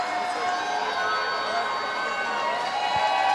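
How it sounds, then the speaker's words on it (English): The crowd at the 2024 Oregon 5A boys water polo state championship gives a steady, loud roar of cheering and chatter that fills the venue without pause. "we have a phenomenal crowd on hand"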